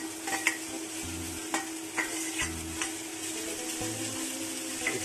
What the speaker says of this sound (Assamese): এতিয়া আমি মেষ্টা টেঙা আৰু ৰঙা জলকীয়া বৰ্তমান কেৰাহীত দিছোঁ